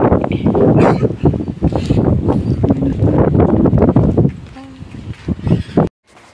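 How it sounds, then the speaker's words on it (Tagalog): Strong gusts of typhoon wind in Batanes, Philippines buffet loudly in bursts, rising and falling, with a voice speaking briefly before sudden quiet at the end. "Ayan palang hangin, pabugso-bugso."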